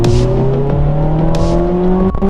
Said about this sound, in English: I have a muffler delete on the car.